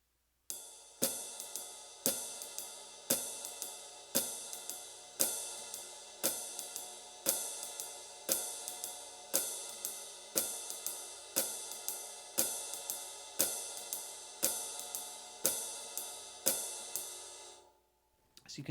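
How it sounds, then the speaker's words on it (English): Swing jazz drum pattern with a steady ride cymbal beat, one note in each group struck noticeably louder, repeating evenly and clearly for about seventeen seconds before stopping. "You should also accent that note on the ride cymbal louder compared to the other two notes."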